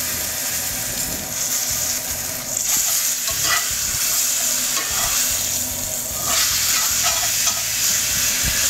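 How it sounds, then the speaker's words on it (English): Fat on a piece of lamb renders in a hot pan with a loud, steady sizzle, overlaid by repeated scraping and clattering as the meat is moved and stirred. "now I'm just gonna render out that fat on top a little bit"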